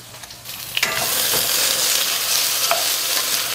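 Sliced renkon (lotus root) fries in a pan, a few clatters at the start giving way to a bright, steady sizzle that holds to the end, with occasional light scrapes and no talking.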